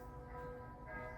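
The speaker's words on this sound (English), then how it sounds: "bells." Bells ring faintly in the distance, a quiet sustained tolling with lingering tones heard from indoors in a studio.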